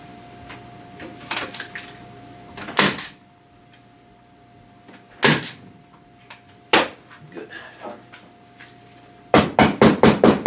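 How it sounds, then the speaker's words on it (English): A staple gun fires into the back of a taxidermy wall pedestal: sharp, isolated clacks spaced a second or two apart, then a quick run of five or six shots at the end, close and loud over a quiet room. "I'm going to finish stapling the back here on that little part that I didn't do."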